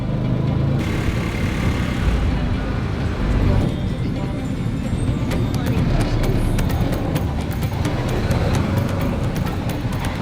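A ride along a road on the way to a breakfast spot, with a loud continuous engine and road rumble, busy traffic noise and a few clicks, while people talk.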